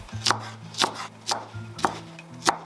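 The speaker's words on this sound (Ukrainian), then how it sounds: "Спочатку ділимо її вздовж, а після нарізаємо на тонкі смужки" A knife slices leek into thin strips on a cutting board, five sharp, evenly spaced chops about half a second apart, close and distinct over a faint low background hum.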